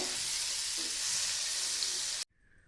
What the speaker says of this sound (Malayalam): കരിഞ്ഞു പോകാതെ ഒരു മൂന്ന് ക്യൂബ് ബട്ടർ ഞാൻ ചേർത്ത് കൊടുത്തിട്ടുണ്ട് അത്ര മെൽറ്റ് ചെയ്തിട്ട്